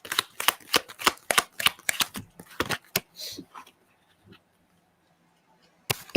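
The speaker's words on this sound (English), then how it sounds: "you guys saw me shuffle these, right?" Playing cards are shuffled in a run of quick, crisp riffles and snaps, close by, followed by a stretch of near silence and a short burst of sound at the end.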